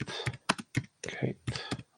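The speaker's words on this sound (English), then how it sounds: "I'm typing with one hand" One-handed typing on a computer keyboard, irregular clusters of close, crisp key clicks separated by short pauses.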